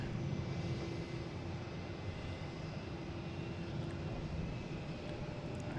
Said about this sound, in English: Air France coming in from Paris